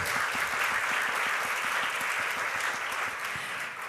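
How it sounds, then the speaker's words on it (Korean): Audience at a security-training school entrance ceremony claps continuously, a thick, evenly sustained roar of many hands without any break or talk. "여러분 박수 보내주시기 바랍니다"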